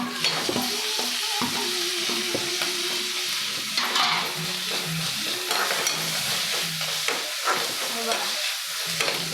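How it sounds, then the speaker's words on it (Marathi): Onion, tomato and coriander sauté in a pan for a dried-shrimp vegetable dish, giving a steady close sizzle broken by repeated scraping stirs against the pan, with no talk over it. "त्याच्यामध्ये टोमॅटो आणि कोथिंबीर दोन्ही टाका एकदा."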